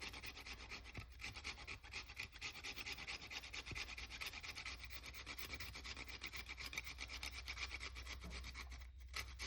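While Jamaican cornmeal porridge is being prepared, an ingredient is rubbed against a kitchen grater in a continuous, fast rasping scrape. The scraping runs quietly and evenly throughout, with no voices.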